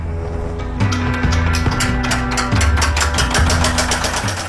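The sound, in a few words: coffee hulling machine separating skins from coffee beans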